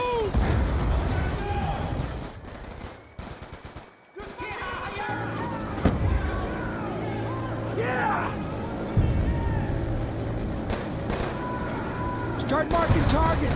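Grenade blasts and gunfire in Call of Duty Black Ops 2 combat: heavy, rolling explosions and shots mixed with shouted voices, dropping briefly to near silence before the fighting resumes loud and continuous.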